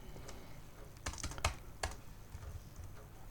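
Code typed on a computer keyboard for a C++ grading program: a short burst of a few soft key taps clustered around the middle, quiet and close, with no voices.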